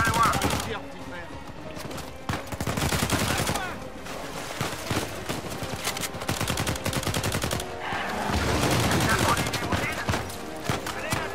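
Dense automatic gunfire from a firefight in Uncharted 4, loud sustained bursts and volleys filling the scene, with game voices calling out in between.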